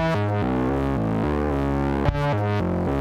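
A distorted synth plays a stepping melodic pattern, each note washed in reverb and trailing delay echoes, loud and continuous.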